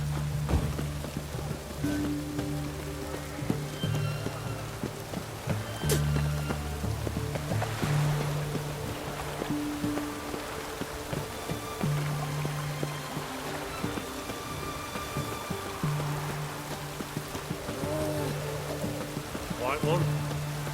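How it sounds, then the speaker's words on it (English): Steady rain falls in the video game The Witcher 3, a continuous hiss of drops on surfaces under low sustained tones, with someone talking over it. "It's raining, of course it's going to be damp."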